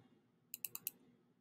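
Four quick, faint computer mouse clicks in a steady rhythm during a Photoshop selection trace, with nothing else heard around them.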